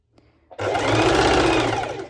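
A sewing machine stitches slippery soft lycra fabric, starting after a couple of faint clicks and then running in one loud, steady, close-up whirring burst before slowing to a stop.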